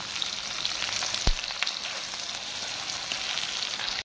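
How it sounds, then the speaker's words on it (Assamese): Onions frying in oil in a wok, a steady dense sizzle held at an even level throughout, with one brief sharp knock partway through. "পিঁয়াজখিনি এতিয়া ৰঙাকৈ ভাজি ল'ম"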